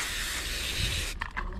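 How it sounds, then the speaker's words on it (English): Gum cutter aerosol spray hisses steadily onto carburetor parts laid on rags during a Craftsman snow blower repair, a close continuous spray that cuts off abruptly, followed by a few faint clicks. "I'll just go ahead and spray them down with a little bit of gum cutter"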